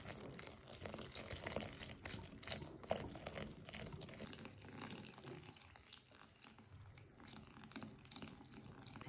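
Lukewarm water poured and mixed into chickpea flour with salt for a Genoese panissa batter, a faint, continuous trickle and stirring splash that runs on with small fluctuations.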